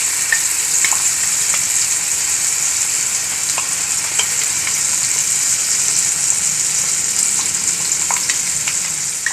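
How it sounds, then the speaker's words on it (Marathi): Homemade cashew paste sizzles steadily in a pan for Kashmiri paneer yakhni, with small crackling pops and light stirring ticks throughout, close and fairly loud, with no voices. "काजूची पेस्ट घालायची आपण बनवलेली."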